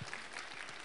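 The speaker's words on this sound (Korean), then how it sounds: "우리 하나님께 감사와 영광의 박수 올려드리겠습니다." A church congregation claps together after a Korean sermon reading, a brief, soft wash of steady applause from the room.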